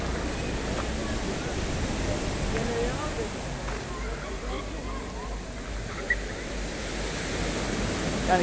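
Sea waves wash steadily onto a long, narrow beach beside the main seaside promenade in Sutomore, Montenegro, forming a continuous broad surf hiss mixed with wind, close and fairly loud.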